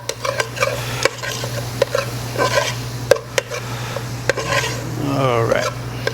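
Vegetables and bacon caramelizing in a soup pot for corn chowder, repeated clanking spoon strokes against the pot over a low sizzle, close and rhythmic, with a steady hum underneath.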